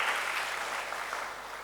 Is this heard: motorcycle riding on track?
no